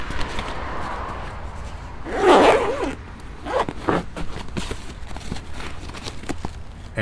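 A zipper on a small fabric carrying and storage bag for a vehicle recovery strap is pulled closed in one brisk zip, followed by a few lighter rustles and handling sounds nearby.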